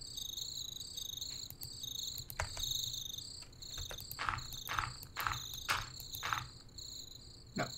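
Crickets chirping at night in a woodland video game, a steady high rhythmic trill running throughout, fairly loud, with a few soft clicks and thumps of movement mixed in.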